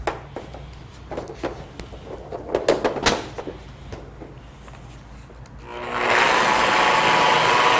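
A car polisher spreading wax across automotive paint in overlapping back-and-forth passes switches on after about six seconds, becoming a steady, fairly loud whir. Before it starts there are scattered handling knocks and clicks.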